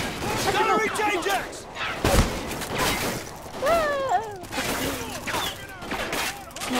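Call of Duty gameplay with sharp bursts of gunfire and sudden impact cracks scattered through the scene, mixed with in-game effects while players talk over it.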